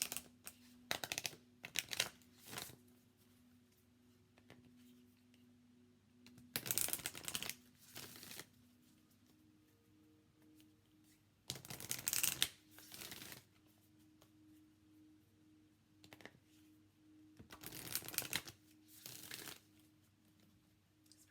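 Repeated bursts of a Work Your Light oracle card deck by Rebecca Campbell being shuffled, crisp riffling clatters spaced every few seconds over a quiet room with a faint steady hum; no talking.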